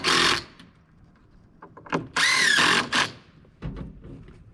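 Cordless power drill driving a couple of screws into a wooden joint during a castle build, with short bursts of whirring near the mic separated by pauses.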